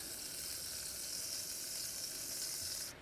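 Butter melting in a pan for lasagne sauce, making a steady, even sizzle and hiss that holds throughout at moderate loudness before cutting off sharply near the end.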